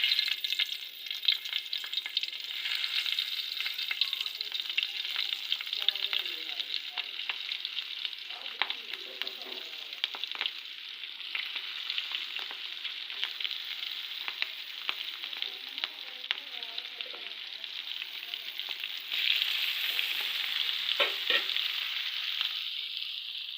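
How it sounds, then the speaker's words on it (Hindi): Green chillies stuffed with masala fry in hot oil, giving a steady, loud sizzle and crackle that continues throughout with no talking. "जैसे ऑयल गर्म होगा फिर इसके अंदर मैं मिर्चें डालूँगी।"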